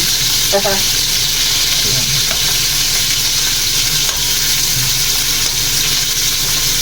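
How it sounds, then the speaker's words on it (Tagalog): Meat frying in a pan while being stirred, a loud continuous sizzle with occasional scraping stirs throughout and faint background voices. "Lutuin natin mabuti ang karne"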